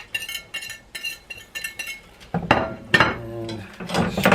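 A utensil stirs cheeseburger soup with melting cheese in a pot, giving repeated clinks and scrapes against metal, first in short bursts and then a louder, denser clatter.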